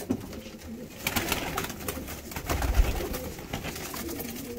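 Pigeons coo steadily inside a coop of Russian-breed birds, a low soft murmur of overlapping calls that swells briefly midway, with faint background rustling and no talk.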